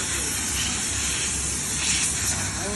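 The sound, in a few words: steam hissing from pressure wash boiler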